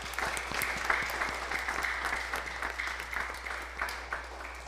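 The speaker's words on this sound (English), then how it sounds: "Round of applause," A congregation applauds at an all-school Mass for the Solemnity of St. Joseph, with steady, sustained clapping at a moderate level over a low constant hum.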